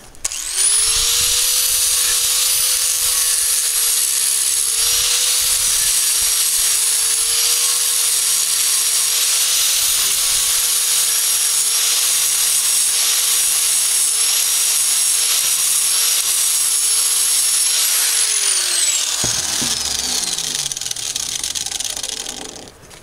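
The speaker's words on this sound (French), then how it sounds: "je prends la disqueuse avec un disque à lamelles et je vais venir travailler ça" An angle grinder fitted with a flap disc grinds steadily on a lawn mower blade, a loud continuous high whine holding for about eighteen seconds before spinning down at the end.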